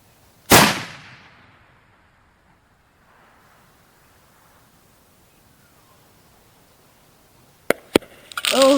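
A single loud .416 Barrett rifle shot cracks out nearby and its boom rolls away into a long fading echo over open ground, then a few sharp knocks and rustles follow close by.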